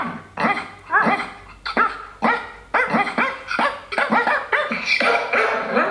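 Dogs bark and yip in a quick series of short, pitched barks used as notes of a dog piano, close and loud, with a playful melodic rhythm and no talk.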